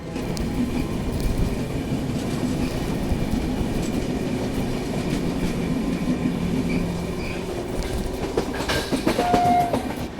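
A Rajdhani express train crosses the Panval viaduct, India's tallest operational viaduct, with a continuous loud rumble of wheels, rhythmic clickety-clack on the rails and a brief squeal near the end.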